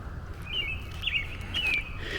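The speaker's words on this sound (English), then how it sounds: "There's some beautiful birds chirping." Several bird chirps ring out in short bursts over a low rumble of distant traffic along Sullivan Gardens Parkway in Tennessee on a warm day, moderately close and clear.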